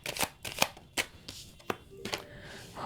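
Tarot cards handled in a quiet indoor reading, with a handful of short, crisp slaps and riffles spaced unevenly over a few seconds, close and fairly soft.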